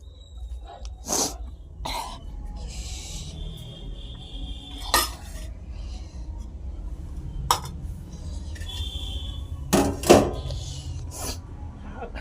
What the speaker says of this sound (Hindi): अब रख देते हैं बर्तन बाहर।